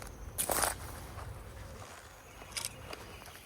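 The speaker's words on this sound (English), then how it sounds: "There's a lot more bees in this one." Honey bees buzzing close by in a hive with XL frames, a low droning hum with a couple of louder passes as bees fly near.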